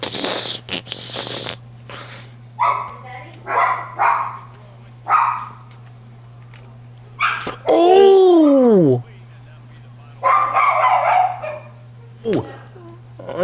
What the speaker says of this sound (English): You want to shut that dog up?